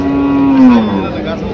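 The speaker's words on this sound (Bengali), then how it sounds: "এদিকে আর একটি সিন্ধি সাইওয়াল ক্রস, নেপালি গেরুর ক্রস দেখা যাচ্ছে।" A Sindhi-Sahiwal cross cow at a cattle market lets out one loud, close moo that slides slightly downward and fades, with faint market murmur behind.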